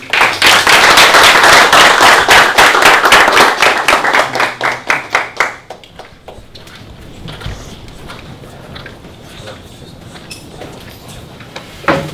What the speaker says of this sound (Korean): 다 같이 또 박수 한번 치고